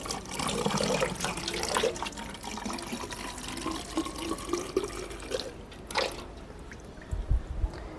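Water poured from a cup into a car's coolant reservoir, a close, steady splashing trickle lasting several seconds before tapering off, followed by a few light knocks.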